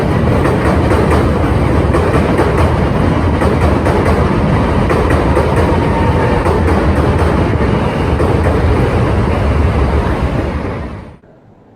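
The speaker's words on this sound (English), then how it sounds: "when I hear the sound of that train going over" A train rumbles steadily and loudly over a bridge near the old London branch headquarters in Bermondsey, with a continuous clattering roar that cuts off abruptly near the end.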